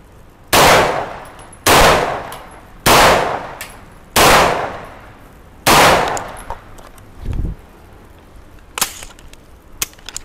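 Gunshots fired at a shooting range target, five loud, sharp reports spaced about a second apart, each with a short decaying tail, followed by fainter clanks and knocks.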